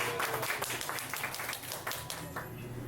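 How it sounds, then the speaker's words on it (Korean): A church congregation applauds during a Sunday worship service, a steady wash of many hands clapping close by for a few seconds. "박수 한번 부탁드립니다."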